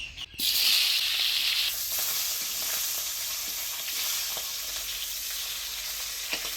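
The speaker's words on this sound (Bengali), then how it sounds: "এবারে রুই মাছের মুড়াটাও ভাজে নেব" Rohu fish head frying in hot oil in a village Bengali kitchen: a loud, steady sizzle and hiss throughout, strongest just after it hits the oil, with a few faint clicks.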